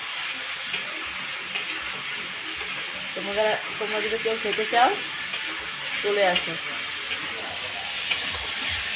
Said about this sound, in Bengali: চিকেনটা আমি দেখো সুন্দর করে ভাজাভাজি করছি